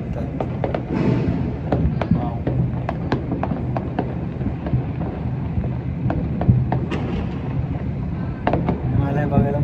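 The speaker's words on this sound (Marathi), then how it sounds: "मस्त खूपच फटाके उडतात." Diwali firecrackers burst all around, a rapid irregular series of sharp bangs and pops at varying distances over a constant rumbling wash, with voices faintly underneath.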